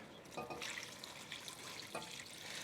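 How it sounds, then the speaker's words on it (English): Water pours into a soup pot of tender leeks and potatoes for a French potato-leek soup, a close, steady splashing stream with a couple of louder gushes. "So we can add the potatoes"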